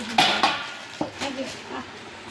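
Several sharp clinks and clatters of large plates and metal dishware being taken out close by, a few separate knocks spread over a couple of seconds.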